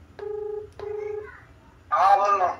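Two short electronic telephone tones sound in a row, then a voice speaks loudly close by.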